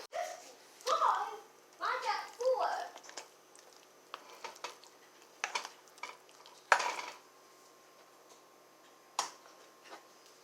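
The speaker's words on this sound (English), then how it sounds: "So I'm going to get this mixed up with the mashed potatoes" A spoon scrapes and clinks in a pot as filling is stirred into mashed potatoes for shepherd's pie, producing sparse, close knocks and scrapes between stretches of talking.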